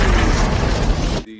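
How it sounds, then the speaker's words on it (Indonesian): A loud, dense bomb explosion on a bus in a film roars with a broadband burst, then cuts off abruptly into near silence. "tiba-tiba terjadi sebuah ledakan"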